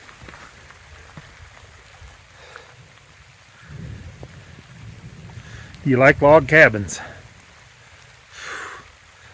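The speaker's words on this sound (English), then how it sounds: "it's raining pretty good" Steady rain patters and hisses throughout, with a voice briefly speaking partway through.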